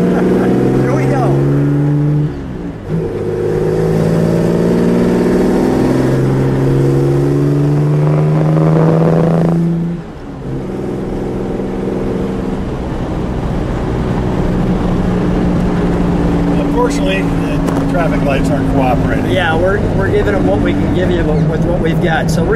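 A 1962 Jaguar E-Type Low Drag Coupe engine revs up through several gears, each pull rising in pitch before a shift, loud and close from inside the moving car, with a short lift-off near the middle.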